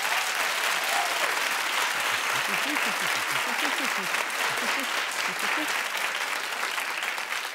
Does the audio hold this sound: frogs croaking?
no